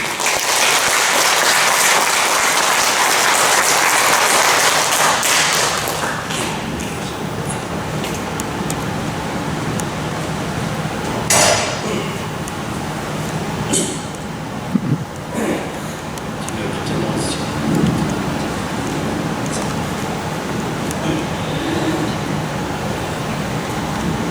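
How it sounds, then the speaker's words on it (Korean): An audience at a ceremony applauds for a visiting National Assembly member, a loud dense wash of clapping that fades after several seconds into an ongoing murmur of the crowd. "힘찬 박수 부탁드립니다"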